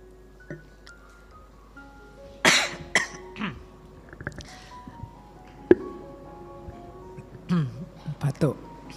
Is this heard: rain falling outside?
no